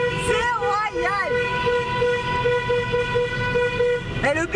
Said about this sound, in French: Il klaxonne lui aussi.